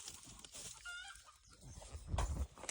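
Chickens fighting, squawking and clucking in a brief scuffle, with agitated calls and a flurry of movement nearby.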